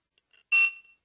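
A single short, bright electronic beep sounds from a HOBO Bluetooth data logger being paged. It is clear and close, then fades over a brief tail against near silence.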